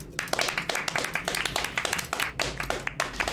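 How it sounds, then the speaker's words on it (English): A small group of people clapping in a home, a brisk, uneven patter of individual claps close by, fairly loud and without talk. "Why are we clapping?"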